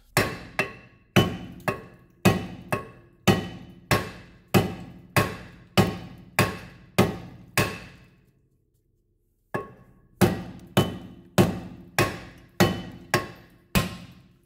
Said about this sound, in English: this is a 4-pound sledge, so it's got a lot of oomph behind it